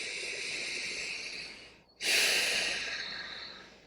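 A person draws a long breath in, pauses briefly, then lets it out in a fuller, louder rush of air, close and alone with no talk.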